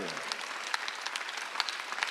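Scattered clapping from a church congregation during a Sunday worship sermon, moderately faint and uneven, with sparse individual claps over a soft steady patter.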